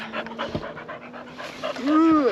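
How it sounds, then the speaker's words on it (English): A dog pants in quick rough breaths close by, with a short whine near the end, while a person speaks over it. "No, I said don't jump on me. That's disgusting. Get off. Don't do that, bad dog."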